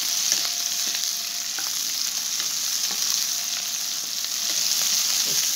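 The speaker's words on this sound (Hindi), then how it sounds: "यहाँ पे हम ये बंद गोभी और शिमला मिर्च डाल देंगे और इनको भी स्टर फ्राई कर लेंगे।" Cabbage and capsicum stir-fry with chicken in a hot pan, a dense continuous sizzle with occasional light scrapes and taps of stirring, close and even, with no talk.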